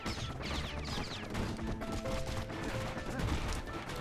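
Enemy gunfire aimed at the player in Bastion, a rapid volley of sharp shots clattering over busy game music and effects, steady and moderately loud throughout.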